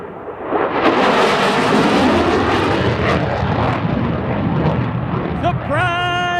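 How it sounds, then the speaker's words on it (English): Thunderbird 6 jet making a sneak pass at the SUN 'n FUN air show in Lakeland, a sudden loud roaring rush that swells and lingers, with a voice on the public address speaking near the end. "That was Thunderbird 6 sneaking up on you with the sound of freedom."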